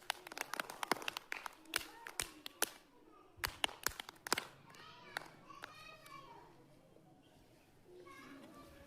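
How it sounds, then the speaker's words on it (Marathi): Children in a classroom activity clap their hands in sharp bursts, several uneven claps close by at first, then quieter with children's voices. "टाळ्या वाजवा."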